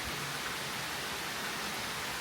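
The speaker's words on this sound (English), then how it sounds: "A steady, gentle rain." Steady, gentle rain falls outdoors as a constant, even wash of soft hiss with no breaks, moderately loud and alone, with no voices.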